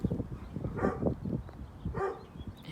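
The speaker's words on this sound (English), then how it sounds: "We got a bunch of dogs kind of barking at us" Several dogs bark and yip a short way off, a few scattered barks over a low murmur of background noise.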